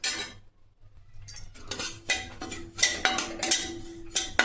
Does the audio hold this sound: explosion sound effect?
no